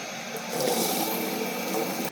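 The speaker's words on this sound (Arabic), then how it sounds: "هلا رح كب عنهم المي السخنة وحط لهم مي باردة" Hot water being poured off boiled eggplants for Syrian makdous, then cold water running in, a steady close rush of splashing liquid that swells after the first half second and continues evenly.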